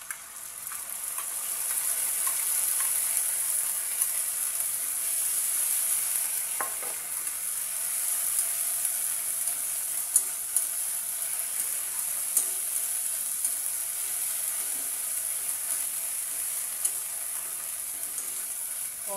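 Chili, cumin and ginger paste fries in a pan for a boal fish bone charchari, a soft continuous hiss and sizzle with occasional light ticks and scrapes, fairly quiet and steady.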